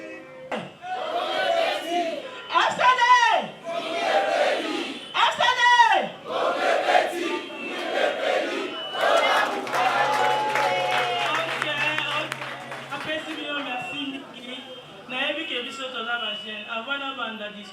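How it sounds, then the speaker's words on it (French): Crowd at a youth political gathering in the Democratic Republic of Congo breaks into cheering, shouting and clapping in bursts, loud and close, mixed with talk from the room. "je vous prie de la recevoir par des applaudissements"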